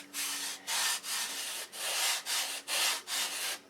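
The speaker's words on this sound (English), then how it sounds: "I just get it close with the disc sander, and then I take and finish it off with a block." Wooden piece on a CLC boat build hand-sanded with a sanding block after disc sanding, a close, steady rasping of about eight back-and-forth strokes in an even rhythm with no talk.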